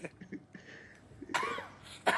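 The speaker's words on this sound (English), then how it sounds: "I don't mean to make you cough" A faint, muffled cough or two from a short distance, followed by a louder, sharper cough burst near the end.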